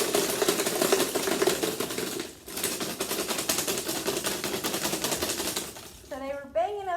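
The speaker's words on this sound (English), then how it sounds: "I'm going to give it a good shake" Three sugar cubes shaken hard in a container, a rapid rattling clatter of hard little impacts that runs continuously for several seconds, pauses briefly, then resumes before a voice comes in at the end.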